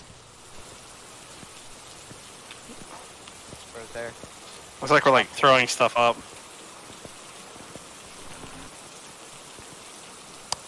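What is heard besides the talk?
rain in a video game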